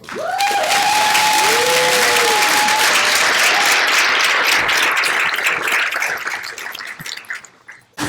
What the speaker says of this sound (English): I get a round of applause.